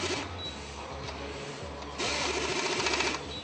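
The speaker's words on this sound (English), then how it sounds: "The operator starts tightening and the tool stops every time the correct torque is reached." A Yokota pneumatic torque tool tightens joints on a product, giving a steady close mechanical whir that grows louder for about a second near the end before cutting off, with no talk.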